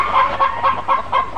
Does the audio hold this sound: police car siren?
no